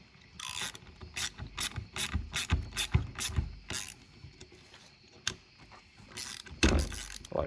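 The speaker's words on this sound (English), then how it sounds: "Now I can put some force to it. Ratchet. One thread at a time." A hand ratchet clicks in quick irregular bursts while threading parts during a fuel pump replacement on a 2000 Ford Ranger in an auto repair shop, close and crisp, with short pauses between strokes and no talking.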